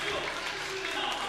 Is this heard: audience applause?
yes